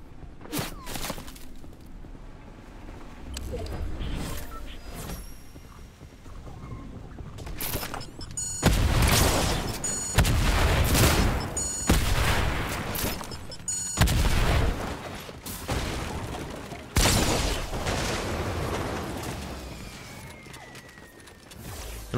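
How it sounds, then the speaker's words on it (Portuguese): Scattered gunshots and booming blasts in a first-person shooter match, arriving in irregular bursts of varying loudness with some footsteps and rumble between volleys, mostly alone without talk. "Eu não sei de onde esse cara tá atirando"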